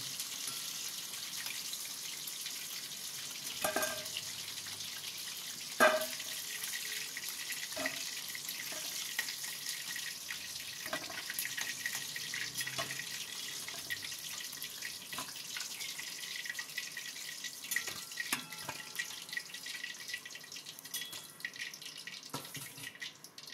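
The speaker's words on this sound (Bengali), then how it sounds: "এরপর আমি বাকিগুলো ভেজে নেব।" Chili chicken pieces frying in hot oil on low heat, a steady hiss and crackle running throughout with occasional sharper pops and clinks standing out close by.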